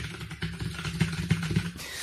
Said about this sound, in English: joined by a man with the world's loudest keyboard